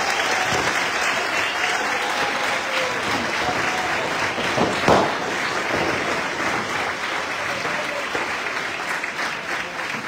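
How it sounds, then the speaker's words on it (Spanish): Audience applause for the Valencia city firefighters at a Falla Exposició farewell event, a steady dense clapping from a large crowd that holds for the whole stretch with no talk over it. "un aplauso para los bomberos de la ciudad de Valencia"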